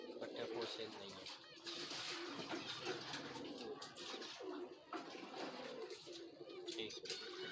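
Breeding pair of high flyer pigeons cooing close by, soft repeated coos over a busy, noisy background, with someone talking throughout.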